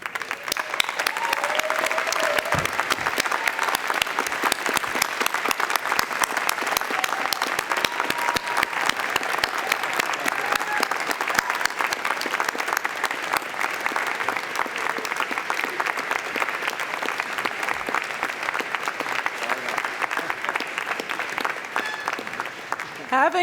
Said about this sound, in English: show your appreciation for the support of your parents, family, and friends by giving them a big round of applause